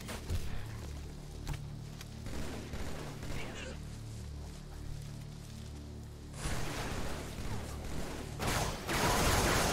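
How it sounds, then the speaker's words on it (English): Gunfire and bursts of shooting in the Halo 3 video game, with mixed game sound throughout and heavier loud volleys near the end, with people talking over it at points. "It's funny when we all shoot."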